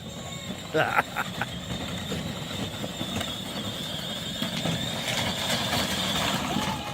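A ride-on RC car drives through snow, its motor making a steady low whir and rumble with some brief crunching bursts, while voices talk close by.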